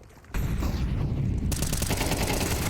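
Rapid bursts of rifle fire in the tactical shooter Counter-Strike during a professional esports match, loud dense gunfire starting sharply and intensifying into a sustained volley.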